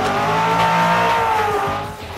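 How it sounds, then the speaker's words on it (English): A muscle car's engine revs hard with a sustained rising howl, and the tires peel out with a squeal, loud and close. The revving then eases off slightly toward the end. "Do you love that muscle car sound?"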